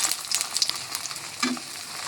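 Aloo paratha frying in hot oil in a pan, making a close, crackly sizzle with bright spattering pops that runs alone throughout.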